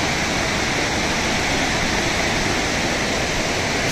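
Sarugudu waterfalls near Tandava Reservoir roar in a dense, unbroken rush of falling and flowing water, loud and constant with no voices over it.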